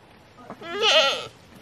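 A single drawn-out bleat from a goat inside a dim shed, close and clear against a quiet background.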